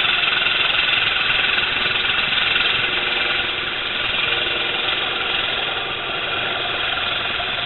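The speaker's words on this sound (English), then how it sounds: "do you hear a little bit of chatter? As I get further out on this piece, I'm just getting that because the wood flexes a little bit." A wooden platter spinning on a lathe gives off a steady, loud buzzing chatter as the tool cuts farther out on the flexing wood, droning evenly throughout.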